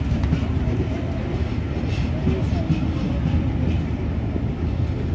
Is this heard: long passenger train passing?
yes